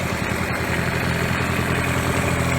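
A Mercury 9.9 hp outboard motor idles with a steady, even mechanical drone and fine rhythmic chugging, close and fairly loud, with no voices.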